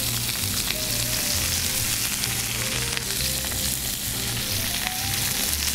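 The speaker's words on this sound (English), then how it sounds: "The more you move this meat around, the more you mess with it, the less reaction you're gonna have with the pan." A rack of venison searing in hot oil and butter in a pan, giving a loud, constant, dense sizzle with no pauses, close by and undisturbed.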